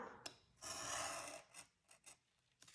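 Kraft cardboard is cut for an Advent calendar tea box, making a close, quiet scraping rasp that runs for about a second, followed by a few short cutting strokes.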